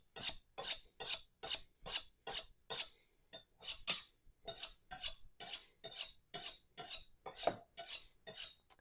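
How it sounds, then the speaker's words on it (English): A kitchen knife being honed on a honing steel, dragged heel to tip before slicing onions: a steady series of about sixteen crisp, rasping metal strokes in an even rhythm with one brief pause, close and clear, no talking. "So I'm going to do another honing just to make sure we have a super sharp"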